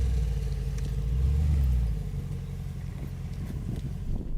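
A Mercedes G63 G-Wagon climbing a hill, its engine a heavy low drone that swells and then eases off, heard from a moderate distance with no voices.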